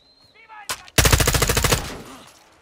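Gunfire from Call of Duty: Modern Warfare 2 (2022), in the Recon By Fire mission: a loud, close burst of rapid automatic shots in a steady rattling rhythm lasting about a second, with a brief sharp report just before it.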